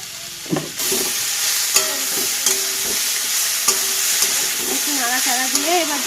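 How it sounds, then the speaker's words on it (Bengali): Potatoes sizzle steadily as they fry lightly in a hot pan with intermittent scraping and stirring clicks, while a voice is heard faintly underneath. "এবার একটু হালকা ভেজে নিলাম আলুটা"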